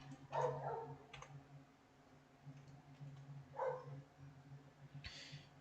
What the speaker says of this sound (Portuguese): Peço perdão caso tenha algum som de cachorro de fundo.